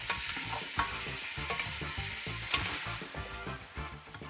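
Beef sizzles in a pan of hot oil and butter for a Haitian pumpkin soup, a steady close crackle broken by regular stirring scrapes.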